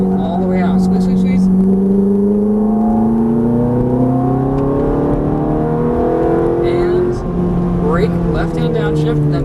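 A Ferrari F430 F1 on a race track at Exotics Racing Los Angeles accelerates hard, its engine note climbing steadily and loudly throughout, briefly easing before rising again, with an instructor talking over it.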